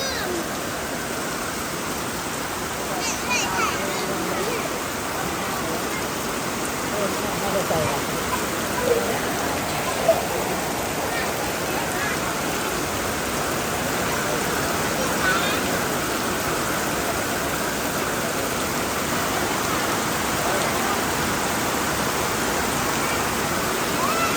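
Heavy rain pours down during a storm at a rural home, a dense continuous roar of falling water and runoff with occasional louder splashes and drips, steady throughout.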